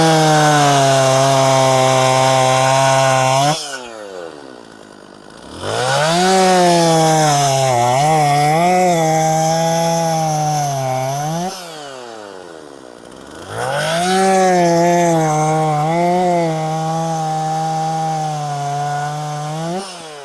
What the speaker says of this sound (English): This saw definitely is cutting on an angle though.